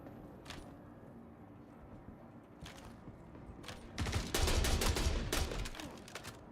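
Gunfire aimed at the player in a video game: scattered single shots early on, then a louder close volley of rapid cracks near the end, over a faint background hum.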